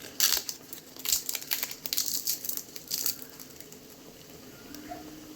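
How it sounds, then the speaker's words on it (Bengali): Roasted spices being ground by hand on a stone grinding slab with a stone roller, giving close, gritty crunching and rubbing strokes in irregular bursts that fade toward the end, with no talking. "এখানে আমি বেটে নিচ্ছি মশলাগুলো।"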